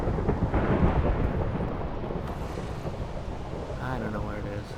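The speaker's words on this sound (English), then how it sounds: "I guess that's just the sound of lightning." Thunder in a video game rolls as a long, loud, continuous rumble that fills the whole stretch, with faint voice-like sounds near the end.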